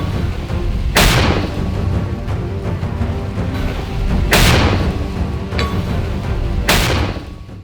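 Three heavy booming shots from a Ukrainian defensive position, each a sharp loud blast at roughly three-second intervals, followed by a rumbling decay over a constant low background roar.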